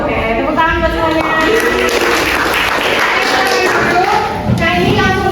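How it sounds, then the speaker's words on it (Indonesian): A classroom of children claps for everyone, a steady stretch of applause mixed with lively voices and chatter throughout. "tepuk tangan buat semuanya"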